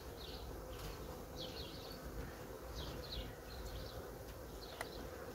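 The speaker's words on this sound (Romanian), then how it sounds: "asta e prima ramă cu albinuță" Honeybees from a medium colony buzzing over an opened hive frame during spring inspection, a steady dense hum with faint wing whines drifting in and out, no talk.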